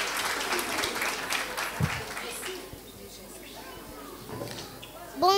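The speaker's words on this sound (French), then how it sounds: "On les applaudit, mesdames" Audience clapping for children performing at a Mother's Day school show, a fairly steady mass of applause that thins toward the end, with voices mixed in.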